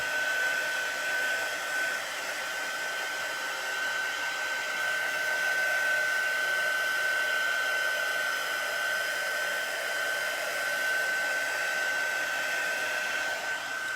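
A hair dryer runs steadily and close by for the whole stretch, drying a chalk craft piece, with a constant whirring rush and a thin high whine, no talk over it.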